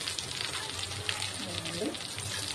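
Whole spices (coriander seeds, cinnamon, cardamom, cloves and shahjeera) frying in hot oil for a paneer biryani, with a steady, fairly quiet sizzle and crackle that runs throughout. A voice sounds briefly near the end.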